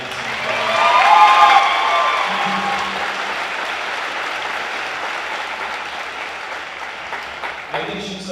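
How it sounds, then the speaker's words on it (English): A graduation audience at Polson High School claps for a teacher, the applause strongest early and then tapering into a lighter, thinning patter, with some voices and cheering mixed in near the start. "I think we can give her a round of applause"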